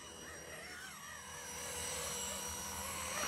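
A Blade 230S ready-to-fly RC helicopter flying loops gives a steady, faint, distant rotor whine and drone that slowly swells louder over a few seconds, with no talking.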